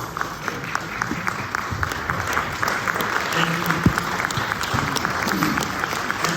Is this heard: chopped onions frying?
no